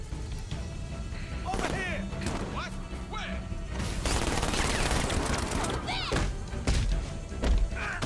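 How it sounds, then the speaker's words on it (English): Gunfire in the Batman: Arkham Knight video game, heard as a dense, loud fusillade of rapid shots and heavy thuds mixed with crashes and combat noise, with someone speaking over it. "Freaking guns."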